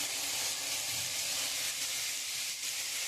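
Onion, potato, tomato and spices (chili, turmeric and cumin powder) fry in a pan for pea ghugni, giving a faint, even sizzling hiss that holds steady without pauses.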